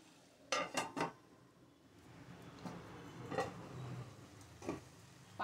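A lid is set onto a pot of spinach and vegetable curry, making three quick metallic clanks close by, followed by softer scattered taps and low kitchen rumble.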